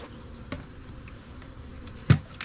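Bees buzz in a steady, high drone, close by, broken by a couple of sharp knocks.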